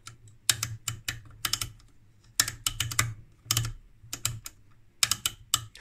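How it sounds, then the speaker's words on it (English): A rotary switch on a 1964 Radiometer RV35 vacuum tube voltmeter being turned, giving close, crisp clicks in quick clusters of three or four separated by short pauses. "This is the switch. Click."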